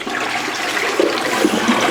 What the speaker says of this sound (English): So sometimes it takes 2 flushes after you clean this.